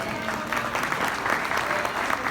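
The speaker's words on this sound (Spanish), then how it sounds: "Un aplauso para Paul Harris, por favor." A room of listeners at a talk on conflict resolution claps for Paul Harris, founder of Rotary, the applause brief, dense and even from start to finish.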